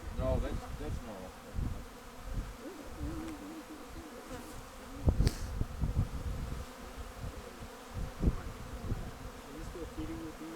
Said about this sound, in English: just the bees working on it